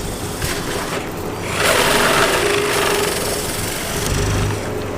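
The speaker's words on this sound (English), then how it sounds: "you guys are currently sitting on the drill press that I'm drilling on." Steady mechanical whirring of a loose, failing drill press boring a 25mm hole, growing louder and harsher midway as the bit bites in, then easing slightly.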